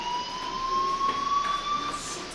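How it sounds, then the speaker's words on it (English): A school fire alarm in the video game Life Is Strange rings as a steady, moderately loud electronic tone, continuous throughout with no talk. "Hey, do you hear that fire alarm? That means you should be outside."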